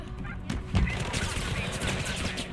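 Enemy gunfire in Mirror's Edge Catalyst, a dense crackle of rapid shots running steadily throughout with a sharper burst near the start, while a voice talks over it.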